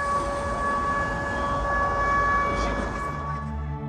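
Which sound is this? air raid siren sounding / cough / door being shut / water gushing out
air raid siren sounding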